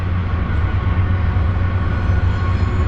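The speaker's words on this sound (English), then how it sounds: "That one's a freight train." A long freight train pulled by two engines passes close by with a loud, steady low rumble and rolling clatter, no voices over it.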